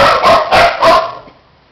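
A puppy-aged female dog gives three quick, sharp barks close by, fading out into a quiet tail.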